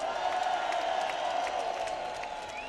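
A rally crowd cheers for Irish patriots: a broad, steady wash of distant cheering, whoops and applause at moderate level, gradually easing toward the end.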